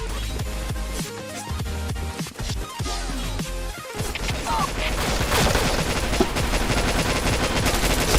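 Rapid bursts of automatic gunfire from a shooting video game crackle loudly and almost without pause, with single shots and fusillades running together over about eight seconds.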